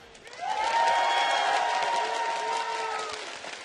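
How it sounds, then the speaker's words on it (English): An esports crowd at the SK Gaming vs CLG match cheers and applauds, a roar that swells quickly, holds for a few seconds, then eases slightly. "let's give them a cheer"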